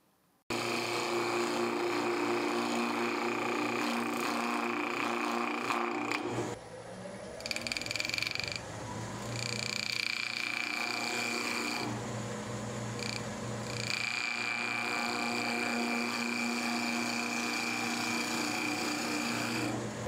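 A wood lathe spins square stock at high speed for a square coin or key project, producing a sustained tonal whir with a steady rhythmic thrum. The cutting tone shifts and briefly drops partway through, then resumes steadily.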